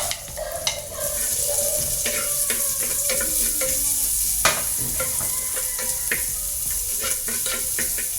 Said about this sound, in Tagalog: Simulan natin siya sa pang-simpleng gisa.